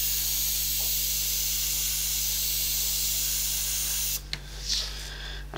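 Spray paint hissing steadily onto the hull of a Hasegawa 1/450 scale IJN Akagi model ship, a continuous close airy spray that cuts off near the end, followed by a few faint handling knocks.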